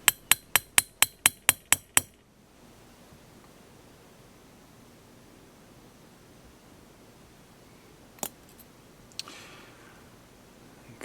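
A retaining pin is tapped into a Smith & Wesson third-generation pistol slide: eight quick, evenly spaced sharp metallic taps close by, then near silence broken by two more isolated taps.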